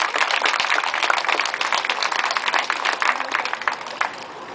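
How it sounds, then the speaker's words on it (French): A live audience applauds a trained seal's performance, a dense, even wash of clapping that holds steady and tapers slightly at the end. "On peut l'applaudir."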